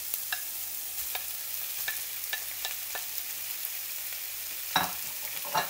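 Potatoes drop into peppers frying in a pan, with a soft steady sizzle, a series of light scraping stirs, and a louder clatter near the end, close and without voices.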